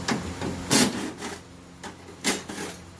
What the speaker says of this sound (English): So now we are going to remove these 3 screws, which is going to allow me to remove these 2 metal plates.